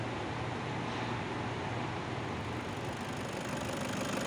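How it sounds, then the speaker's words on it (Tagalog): A Toyota Hiace D4D four-cylinder diesel engine idles steadily and close by with a dense, even rumble, its knocking fault set against a constant low drone that never changes in level. "This is Toyota Hiace D4D diesel engine, 4-cylinder."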